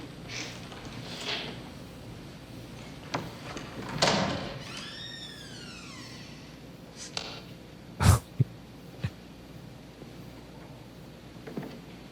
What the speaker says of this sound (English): Woman opening up a door.